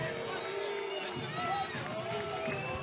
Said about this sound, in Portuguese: Olha a vaia do torcedor do Brasil